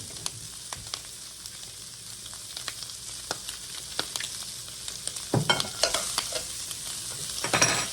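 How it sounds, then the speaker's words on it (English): Butter melting and sizzling in a pan with browned kielbasa slices, a steady close frying hiss punctuated by utensil clicks and scrapes, growing livelier toward the end. "I'm going to add about 2 tablespoons of butter."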